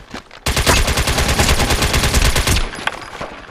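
Gunfire in the MAG video game, Sabotage mode, breaks out as a loud sustained burst of rapid automatic shots lasting about two seconds before cutting off, followed by a few scattered distant pops.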